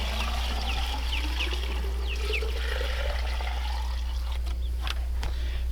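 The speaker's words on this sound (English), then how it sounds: "the water, just as simple as pouring a 5-gallon bucket in there" Water from a 5-gallon bucket splashes and trickles steadily over a constant low hum, with a few faint chirps in the background and no voices.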